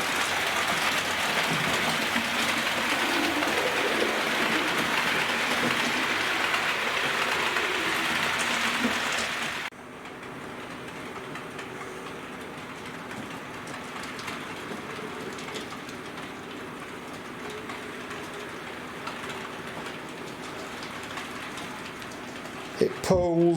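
A model rebuilt West Country class locomotive, Trevone, runs at express speed pulling nine Bachmann carriages, making a continuous rushing rattle of wheels on track that drops suddenly to a quieter, steady rumble partway through.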